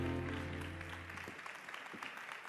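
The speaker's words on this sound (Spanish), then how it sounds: "Un fuerte aplauso para ella, por favor." Audience applause at a live festival talk event in Spain, a steady wash of clapping greeting a guest onto the stage, following a brief musical sting at the start.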